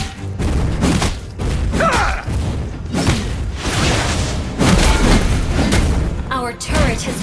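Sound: turret destroyed explosion in a video game

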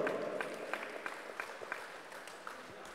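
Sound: applause at a basketball award ceremony

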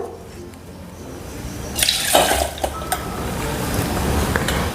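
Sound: water being drained off soaked ingredients

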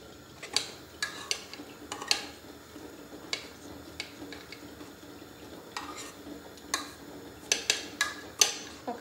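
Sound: mashing food in a pot

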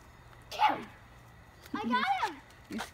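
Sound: puppy barking

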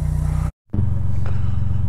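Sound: Honda Goldwing motorcycle engine idling while warming up

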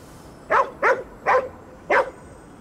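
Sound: dog barking and eating in video game Ghostwire: Tokyo

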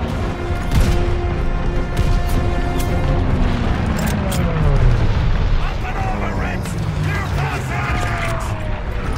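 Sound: bomber explosions in Call of Duty: Vanguard video game

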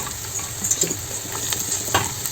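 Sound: onions frying in oil

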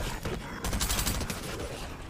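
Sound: gunfire in the video game Fortnite

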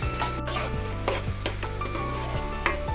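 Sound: green chillies and thinly sliced onions frying in oil

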